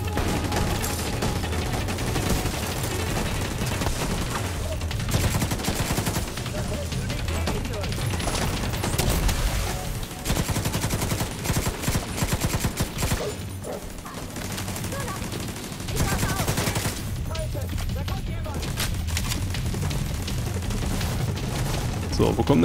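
Sustained turret gunfire from The Division 2, a dense, continuous rattle of shots that runs the full length with brief dips, heavy game combat noise layered over it and no voice.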